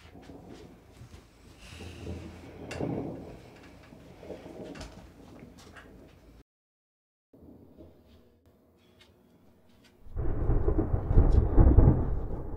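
Thunder rumbles through a storm in long, deep rolls, a brief hush in the middle, then a louder, close crack and rumble to finish.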